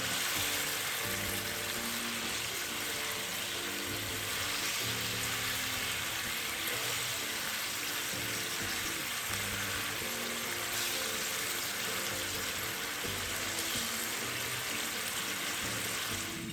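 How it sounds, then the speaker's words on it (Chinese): Chicken pieces in chili sambal with pandan leaves simmer gently in a pot, a steady close bubbling and soft sizzle running evenly throughout with no talking. "与鸡肉块一起小火焖煮8至10分钟"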